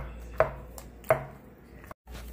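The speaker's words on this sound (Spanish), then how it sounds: "Será poner nuestros tomates y seguiremos machacando." Tomatoes and onion being crushed in a molcajete for bone marrow salsa, two sharp, close pounding thuds about a second apart over low background, with no talking.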